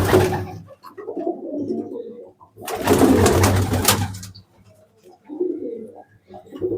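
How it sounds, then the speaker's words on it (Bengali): Pigeons cooing in a loft of competition pigeons, including red-feathered birds: repeated low throaty coos close by, rising and falling in bursts, broken by a loud rustle of wings. "সব কালিঙ্কার উপরে বেশিরভাগ পায়রা রয়েছে, লাল চুলের পায়রা রয়েছে।"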